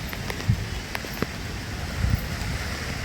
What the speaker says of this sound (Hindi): बारिश हो रही है यहाँ पे बहुत तेज़